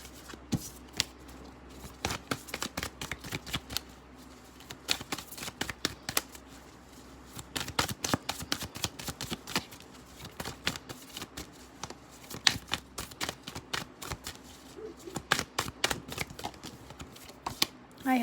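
A deck of playing cards is shuffled over and over in quick riffles and bridges, giving bursts of crisp fluttering clicks separated by short pauses.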